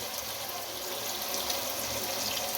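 Soaked tamarind water pours into a pot of chicken pulao, a steady, even trickling wash that runs alone for a couple of seconds.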